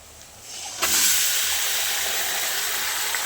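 Chicken pieces tipped into a pan of fried onions burst into a sudden loud hiss just under a second in, then settle into a steady, close sizzle with no talking.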